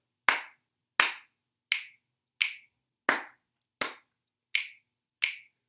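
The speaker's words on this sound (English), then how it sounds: "Two claps and two snaps." Eight sharp, evenly spaced hand sounds, alternating claps and finger snaps, ring out crisply against silence.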